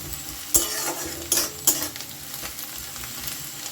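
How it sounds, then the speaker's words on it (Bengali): Chopped garlic and onion sizzling in a pan as they fry, stirred with a utensil that gives a few sharp scraping clicks over a steady soft crackle, close by and quiet. "রসুনটা দিয়েও খুব ভালো করে একটু ভেজে নেব"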